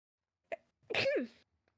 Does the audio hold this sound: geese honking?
no